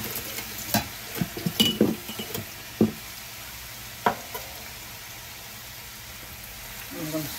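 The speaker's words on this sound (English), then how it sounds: "I'm gonna drop my fries in." Homemade French fries frying in hot oil for burgers, a low steady sizzle with scattered clinks and stirring knocks through the first seconds, then a quieter bubbling hiss.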